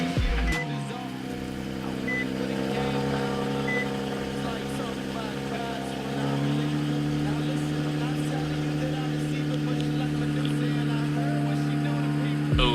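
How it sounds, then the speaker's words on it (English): A new Nissan Z sports car starts cold and settles into a steady, rumbling high idle, heard from inside the car with a faint beep early on. "let's get the cold start in."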